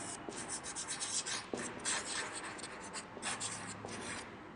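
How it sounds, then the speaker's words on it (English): Pen or marker scratching across a surface as a teacher writes, soft rubbing strokes in quick irregular bursts with a few light taps, faint and close, no talking. "Here I will write."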